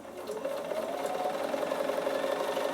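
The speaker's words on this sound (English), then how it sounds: "So I'm just going to do it with my straight stitch and 3 length." A Bernina sewing machine straight-stitching leather at a 3.5 stitch length with standard thread, a steady close mechanical whir with a fast even rhythm running unbroken throughout.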